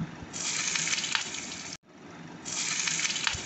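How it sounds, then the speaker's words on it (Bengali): Potatoes frying in mustard oil in a wok give a close, steady hissing sizzle in two bursts, split by a brief near-silent gap in the middle. "কড়াই গরম হয়ে গেলে তাতে 2 টেবিল চামচ মতো সরষের তেল দিয়ে দিলাম। তেল গরম হয়ে গেলে যে আলু কেটে রেখেছিলাম সেগুলো ছেড়ে দিলাম।"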